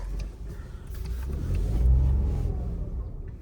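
A car engine rumbles steadily as the vehicle pulls away, the low drone swelling to a peak midway and then easing slightly, with no voices.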